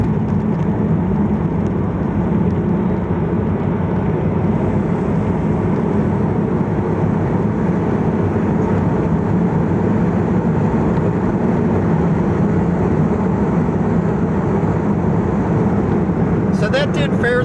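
Mitsubishi 3000 GT pulling hard from 60 to 80 on a highway under heavier throttle, a steady loud engine and road drone filling the cabin without a break.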